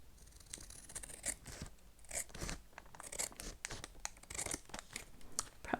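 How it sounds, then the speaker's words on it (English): Scissors trim a paper envelope pocket up close, a series of crisp snipping cuts and papery crunches coming in an uneven rhythm, quiet and with no one talking. "I'm going to give that a trim"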